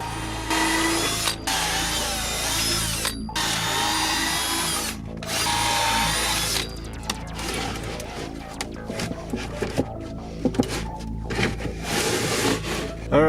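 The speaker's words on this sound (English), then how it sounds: "I can pre-drill the holes for the main shelf the water tank will sit on." A power drill whirs loudly in several bursts, pre-drilling holes into a wooden shelf inside a van, with short pauses between holes, close up.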